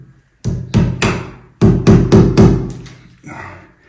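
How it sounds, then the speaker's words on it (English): A hammer drives a nail into a plaster wall in two bursts of sharp, close, loud blows, roughly nine strikes in quick rhythm with a short pause between the groups. "if we try to nail it into here, although I'm using a drywall"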